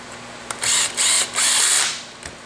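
New Solutions M35 tool driving a screw while installing a foam-filled tire, giving three close mechanical whirring bursts separated by short pauses, with faint clicks before and after.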